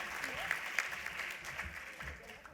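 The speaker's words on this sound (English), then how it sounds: "please give them another round of applause" Conference audience at a business expo giving a round of applause, fairly faint and steady over a few seconds, with a voice speaking over it.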